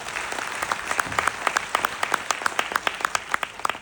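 Audience applause at a talk builds into steady, moderately loud clapping from many hands, with sharp individual claps standing out throughout.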